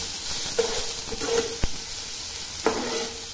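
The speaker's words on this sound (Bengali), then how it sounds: "তখন পেঁয়াজ আর রসুনটা দিয়ে দিলাম, তখন নেড়ে দিচ্ছি" Onion and garlic sizzle steadily in a hot silver-coloured wok after cumin, with occasional soft scrapes and one sharp clack of the stirring spoon against the metal.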